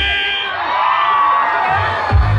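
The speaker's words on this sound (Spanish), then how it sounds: "Los de enfrente, un grito chingón a la cuenta de 3" Concert crowd at an outdoor show in Naucalpan, Mexico, letting out a sustained loud shout on a count of three, a broad swelling roar of voices with a few deep bumps near the end.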